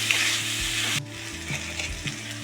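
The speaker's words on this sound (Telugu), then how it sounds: "ఇందులోకి ఇప్పుడు వంకాయ ముక్కలు వేసుకుంటున్నాను. ఈ వంకాయ ముక్కలు కూడా బాగా ఫ్రై అవ్వాలి." Brinjal pieces fry in a pan, a bright sizzle that drops sharply about a second in, then continues more quietly while a spoon scrapes and stirs in several rhythmic strokes, no talking.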